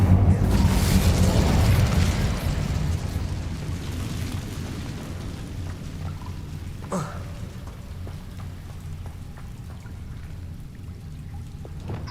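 Incendio fire spell cast in the Hogwarts Legacy video game: a loud, broad roaring burst of flame at the start that gradually fades into a lingering rumble, with a short crackling flare partway through.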